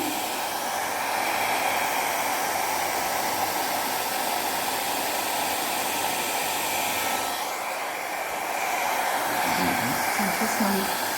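A hair dryer blows steadily and loud on a paint pour, a continuous close whooshing roar that shifts slightly partway through as it moves across the surface.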